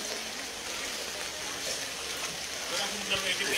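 Swollen floodwater of a river heading toward Balintawak, rushing near a wall at Don Manuel, Kaingin Road, as a steady broadband wash that holds constant, with someone speaking over it.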